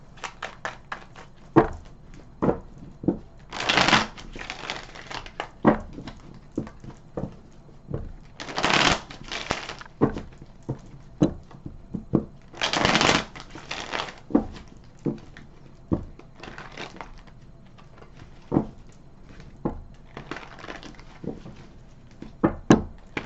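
Tarot cards shuffled by hand in repeated bursts of crisp riffling and soft flicks and taps, with three louder, longer riffles standing out across the stretch, close and clear with no talking.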